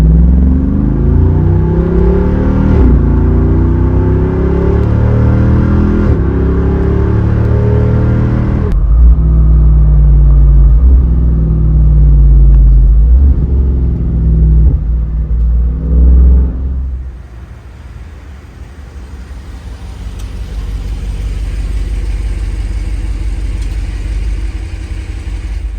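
Loud V8 engine of an $80,000 Jeep Wrangler rumbling and building revs under hard acceleration, with shifts between gears and a deep continuous roar that settles into lower road noise toward the end.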